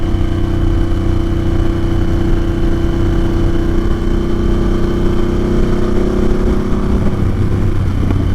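A Harley-Davidson Sportster S motorcycle engine runs loud and close throughout a test ride, with a steady, deep, throbbing drone and no voices.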